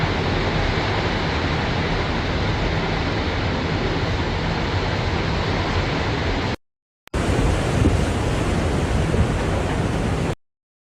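Strong storm wind roars as a loud, dense, unbroken rush during a typhoon in a city. It cuts out abruptly for a moment, then returns at the same force before stopping suddenly.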